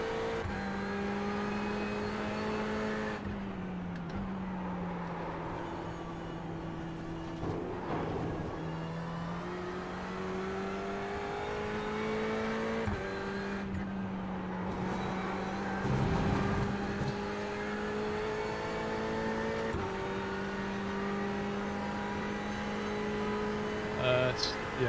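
A Ferrari 488 GT race car engine revs steadily through a sim-racing practice lap in iRacing, its tone sliding up and down through gear changes, with a brief lift and bursts of tyre or kerb noise, while a voice talks over it.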